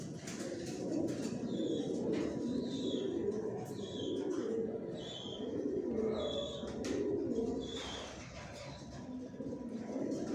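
Many pigeons kept on a third-floor loft floor give a continuous chorus of low, rolling coos, with repeated short high chirps layered over it at a steady pace, moderately quiet, with no speech.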